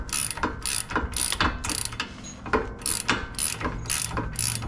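A hand ratchet tightens a bolt under a 2008 Pontiac G8, giving close, rhythmic bursts of metallic clicking, about eight back-and-forth strokes in steady succession with no talk.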